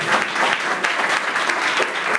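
Congregation clapping during a church worship service, a dense continuous round of applause that stays loud and even from start to finish.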